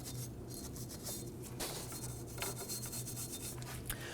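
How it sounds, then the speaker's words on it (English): A bristle brush scrubs the front brake hub of a 2008-2011 Ford Focus, giving a continuous close raspy rubbing with quick back-and-forth strokes and no talk over it. "Now I'm using a bristle brush."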